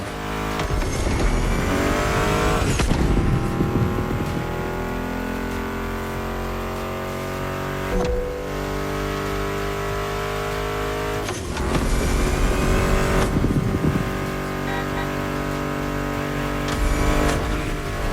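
Race car engines in the driving game The Crew Motorfest rev loudly and continuously, rising and falling through repeated gear shifts with occasional tire squeal, close and dominant, with no voices over them.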